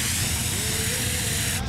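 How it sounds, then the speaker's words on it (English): Spray paint hisses in a steady, close burst lasting under two seconds, a sound effect from the Cars video game. "Why did he get spray painted?"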